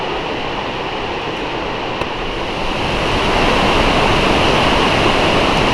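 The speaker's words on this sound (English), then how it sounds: "This is Khone Phapheng Waterfalls." Khone Phapheng Waterfalls on the Mekong in Laos, a large waterfall, roars as a steady, dense rush of falling water that grows slightly louder partway through, with no voices.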